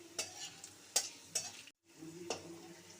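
Garlic frying in a pan, with steady low sizzle and several sharp stirring scrapes of a utensil against the metal, briefly cut off before the sizzle resumes.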